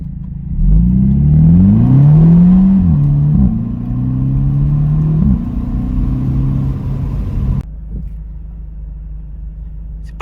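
A Mercedes-Benz SLC R172 roadster pulls away from a start, its engine revving loudly and climbing through rising pitch with quick gear changes, then settling into a steadier drone before easing off.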